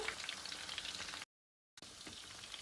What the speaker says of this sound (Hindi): ये हमारे गोला कबाब जो हैं वो ऑलमोस्ट फ्राई हो चुके हैं